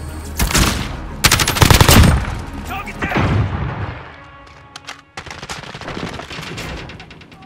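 Automatic gunfire in the video game Call of Duty: Modern Warfare, loud rapid bursts clustered in the first few seconds, then sporadic shots and impacts continuing at lower level amid game voices.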